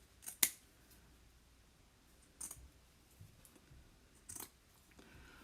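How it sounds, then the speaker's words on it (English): Scissors trim fabric pieces in a few quiet, isolated snips, one sharper cut near the start and softer ones after, close by in a hushed room with no talk. "Let me just trim a few of these."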